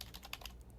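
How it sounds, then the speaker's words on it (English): Soft keyboard typing in a ghost-themed video game, a quick run of faint, light key clicks in an uneven patter with no voices. "I like how he's still typing"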